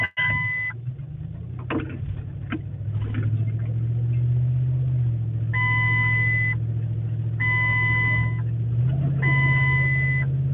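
A truck rolls along a rough forest road with a steady, close engine rumble, while a repeating electronic warning beep from a faulty ABS sensor sounds over it in short bursts.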